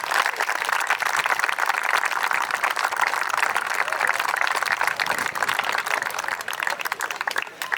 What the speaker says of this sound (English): I think he deserves a round of applause for the professional coaching he brought to this team